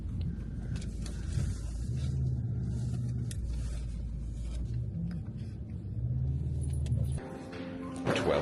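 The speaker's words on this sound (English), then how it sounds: "now we're driving to the hotel and the convention center" Steady low road rumble inside a moving car heading to a hotel and convention center in Copenhagen, continuous and even throughout with a slight shift near the end, no talk.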